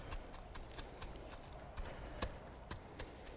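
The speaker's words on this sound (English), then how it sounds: "I'm gonna just stomp on them and get some soil contact" Feet stomp on soil to press freshly planted amaranth seeds into a backyard food forest bed, a run of faint, soft, irregular thuds heard close by.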